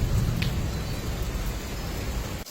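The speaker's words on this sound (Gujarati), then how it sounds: "આવ્યો હો ભાઈ, આવ્યો જોરદાર વરસાદ." Heavy rain beginning to pour down during a storm with thunder and lightning, a dense, steady broadband wash that stays loud and close throughout without a break.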